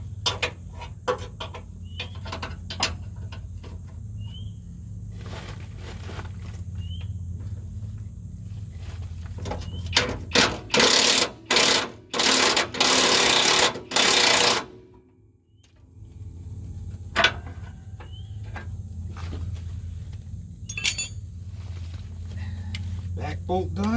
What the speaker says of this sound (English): Back bolt done. Get a wrench on it.